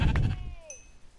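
A sheep bleats in a video game, one short wavering bleat heard close and clear, then trailing off into quiet.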